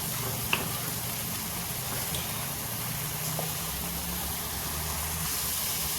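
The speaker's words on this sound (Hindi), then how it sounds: "और हींग जरूर डालिए, हींग का तड़का अच्छा लगता है।" A steady, soft hiss of asafoetida tempering sizzling in hot oil, continuous throughout with a faint low rumble and an occasional small click.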